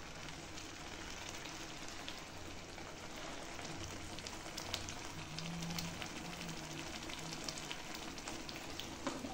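Mutton curry in a dark, dhaba-style gravy sizzles and bubbles steadily in the pot as water goes in, a dense close hiss with no break and no voices.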